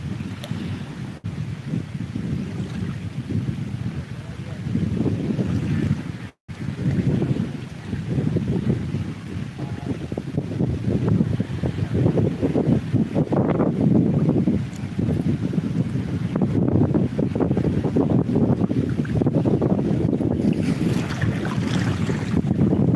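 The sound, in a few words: ocean waves splashing the phone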